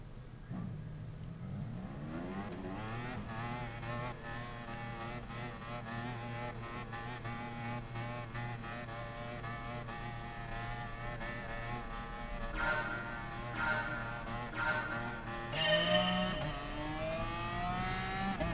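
A McLaren F1 GTR race car engine in GT Sport drones with a sustained high-revving harmonic note that climbs through gears, with brief tire noise and other cars joining as the race gets underway.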